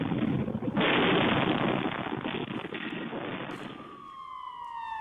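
An air raid siren sounding during rocket fire in Israel: a loud, sustained wail that holds steady and then slides downward in pitch as it winds down.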